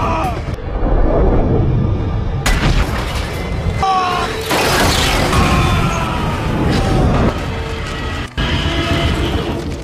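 Loud booming blast from a shot Ducati motorcycle erupting in an action film, a sustained roar with a sharp impact near 2.5 s and rumbling debris, mixed with film sound effects and possible voices.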